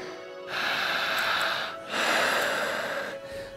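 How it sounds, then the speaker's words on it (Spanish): Two long, forceful breaths rush in and out close up, a heavy, harsh panting with a short pause between them. "Fuerte, intensa y jadeante, jalando el aire"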